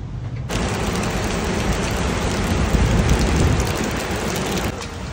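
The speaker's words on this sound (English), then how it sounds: "Rain's about to hit, huge thunderstorm approaching." Heavy rain from an approaching thunderstorm pours down in a dense, loud hiss that starts abruptly, holds steady for several seconds and then thins slightly, with no voices.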